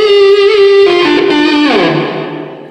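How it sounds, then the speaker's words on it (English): A sustained, heavily processed electric guitar tone with a washy, ringing tail as the held notes shift and slowly fade. "What about a little reverb?"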